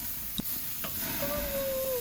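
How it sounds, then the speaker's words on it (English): Tri-tip steak with a seared, charred fat cap sizzling steadily over a grill fire, a continuous close hiss with a faint high whine running through the later part. "I got it sizzling for sure"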